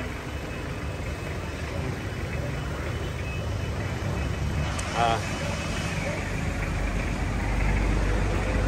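A Versa van's engine runs at a steady idle, a low rumble that swells slightly near the end, with someone talking over it.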